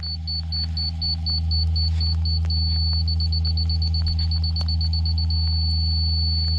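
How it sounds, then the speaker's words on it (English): Farm ditch grading equipment sends out a steady train of high, evenly spaced electronic beeps that pause briefly and then resume, riding over a loud, continuous low engine rumble close by. "You can hear it by the beeping."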